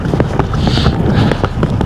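Cold, strong wind gusts buffet the microphone outdoors on a solo hiking trail in Georgia and Azerbaijan, a continuous rough low rumble with brief bumps and rustles throughout.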